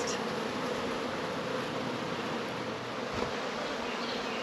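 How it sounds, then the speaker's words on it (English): Honey bee foragers returning to a hive fill the air with a dense, steady buzzing swarm drone, close and continuous throughout with no voices. "this is the time of day that the foragers are coming back"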